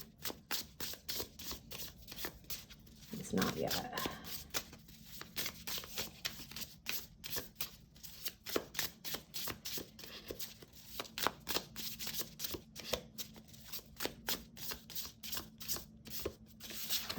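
Tarot cards are shuffled continuously in quick, rhythmic riffles and snaps at close range; a voice speaks briefly once.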